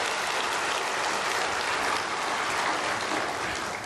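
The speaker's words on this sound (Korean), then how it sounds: "이게 진짜 이 사람 위해서 박수 좀 쳐줘봐." Church congregation applauding during a sermon, a dense, steady wash of many hands clapping at once, sustained and fairly loud throughout with no talking over it.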